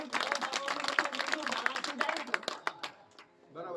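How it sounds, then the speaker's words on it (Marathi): Villagers clapping at a village gram sabha meeting, a burst of scattered handclaps mixed with voices that tapers off near the end. "सर्वांनी टाळ्या वाजवा"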